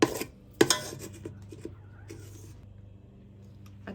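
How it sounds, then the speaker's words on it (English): A wooden spoon scrapes and knocks against a Ninja Foodi pot while onions are stirred, a few sharp clatters early on, then softer scraping and light tapping close by, with no talk. "use a wooden spoon. Pick up your onions from the bottom."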